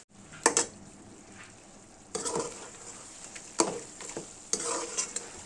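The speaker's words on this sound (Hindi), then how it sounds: "अब बहुत अच्छे से इसकी भुनाई दोबारा से कर लेंगे।" Mutton karahi with onion stir-fried in a wok, a soft steady sizzle broken by several loud scraping stirs of a ladle against the metal at irregular intervals, close by with no talk.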